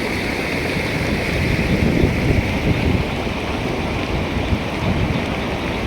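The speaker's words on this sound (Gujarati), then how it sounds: "જો આટલું પાણી હાલે રસ્તામાં વાડીના ખાલી" A steady, loud rush of floodwater pouring across a village road after very heavy rain, a dense continuous roar with a little wind buffeting the microphone.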